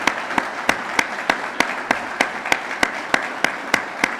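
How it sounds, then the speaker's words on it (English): An awards-night audience applauds the founding directors, with sharp, evenly spaced claps standing out close to the microphone above a softer, continuous wash of clapping from the room. "it doesn't hurt just to give them a little bit of applause"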